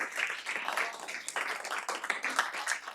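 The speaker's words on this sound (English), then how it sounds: "Let's give our student teams another round of applause for all the hard work they put" A live audience at a student pitch competition claps for the student teams, a steady, dense patter of many hands lasting the whole stretch with no talk over it.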